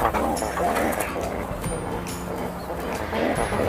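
Pigeons coo in soft, repeated murmurs just after being let out in the morning, with light background bustle throughout.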